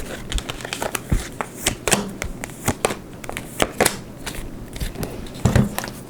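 Tarot cards shuffled by hand: a run of crisp, rapid riffling snaps and soft slaps, close up, with brief pauses between bursts and no talking.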